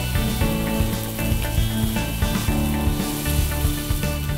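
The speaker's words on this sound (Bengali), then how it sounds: "অল্প আঁচে ভেজে নিচ্ছি এগুলো আমরা" Catan fish slices frying over low heat in a pan with onion, a steady sizzle running unbroken under faint background music.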